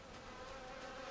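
Bees buzzing in the video game Final Fantasy XIV, a steady, faint insect drone with no talking.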